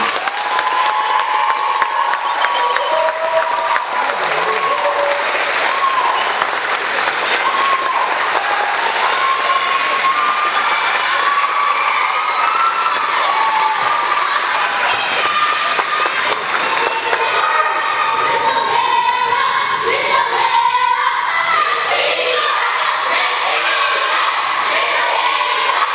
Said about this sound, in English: So please, please give them a big round of applause and thanks for their hard work.